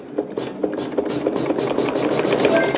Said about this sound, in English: sew a few stitches